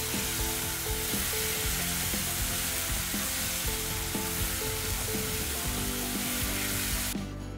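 Raw green mango paste sizzles steadily as it is stirred and fried with curry leaves for mango chutney. The close crackle stays loud and even, with soft scraping strokes, until it cuts off near the end.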